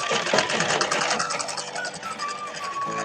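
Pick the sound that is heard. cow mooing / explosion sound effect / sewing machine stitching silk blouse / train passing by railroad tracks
sewing machine stitching silk blouse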